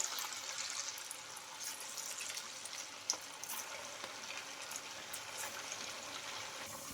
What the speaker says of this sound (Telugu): ఈ వడల్ని అయితే ఒక్కొక్కటి అయితే నిదానంగా వేసుకోవాలి